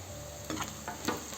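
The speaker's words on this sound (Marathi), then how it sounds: "यात लसूण घालू चिरलेली आणि फिरवून घेऊ।" Chopped garlic tossed in a frying pan, a soft low sizzle with a few brief scraping strokes of a spatula, quiet and near, no speech.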